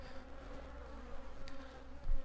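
Bees buzz steadily close by, a continuous droning hum with faint shifts in pitch and a brief louder thump near the end.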